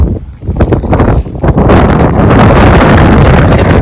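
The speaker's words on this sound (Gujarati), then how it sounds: "પવન પણ જોરદારનો છે" Strong wind blasts across an open rooftop near a neem tree, roaring loudly against the microphone in gusts that build and then hold as a constant rush.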